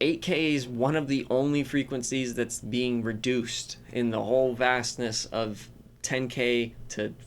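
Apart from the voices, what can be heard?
No everyday noises stand out.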